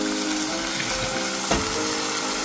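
Browned ground meat and refried beans fry in a pan, giving a dense, continuous loud sizzle with a brief scrape or stir midway, and no talking.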